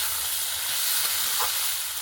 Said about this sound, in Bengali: লবণ হলুদ দিয়ে খুব ভালো করে একটু নেড়ে চেড়ে আলুগুলো ভেজে নেব।